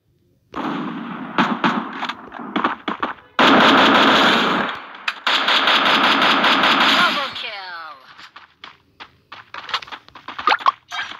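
Rapid bursts of gunfire from the mobile battle-royale game Free Fire, with choppy automatic volleys and sharp single shots, loud and close, and a longer sustained burst in the middle.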